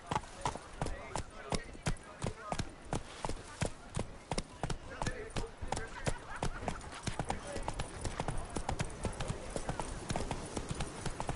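Roach the horse galloping in The Witcher 3: Blood and Wine, a fast, steady clip-clop of hooves, close and prominent, with background voices talking over the rhythm.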